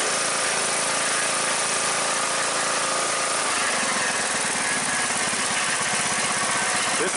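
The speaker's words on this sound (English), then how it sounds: "This one has a baffle broken loose inside the muffler, that's why it's rattling." A small Briggs engine with a freshly swapped Nikki-style carburetor idles steadily, its muffler rattling from a baffle broken loose inside; a continuous close, loud engine drone with a rhythmic metallic chatter running throughout.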